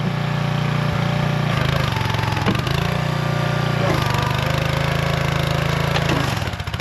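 A small engine on a ranch robot, needing carburetor work, runs loudly and close with a steady droning putter, dipping briefly in pitch a few times.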